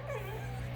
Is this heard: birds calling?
no